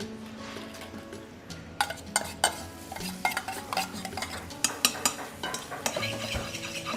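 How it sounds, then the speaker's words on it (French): Onions stirred in melted butter in a pan, sweating without colour: a soft sizzle under repeated utensil scrapes and clinks against the pan, steady and close with no talking. "donc là, je rajoute mes oignons"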